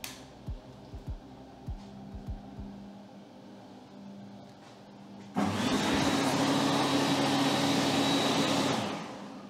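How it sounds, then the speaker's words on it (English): Electric hand dryer in a run-down restroom switching on abruptly after a few soft knocks, then a loud steady blowing roar that runs for about four seconds before cutting out. "this hand dryer was actually turned on"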